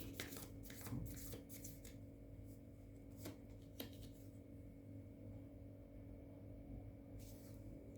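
Tarot card drawn from a deck, a few soft, close riffling and sliding card sounds at the start, then quiet room hum, with no talk.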